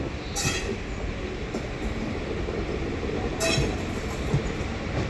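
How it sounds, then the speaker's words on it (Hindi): A WDG4 EMD diesel locomotive-hauled train in India runs steadily nearby with a continuous rumble of wheels on rail, broken by a couple of brief hissing bursts. "ये खड़ा है WDG4 EMD लोकोमोटिव।"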